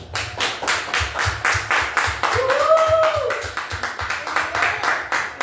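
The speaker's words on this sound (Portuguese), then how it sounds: "Vamos receber com a salva de palmas ao Senhor a vida do pastor Carlos Júnior" Church congregation clapping in rhythm to welcome a pastor at an evening service, steady rhythmic claps with a low beat underneath and a voice talking over them.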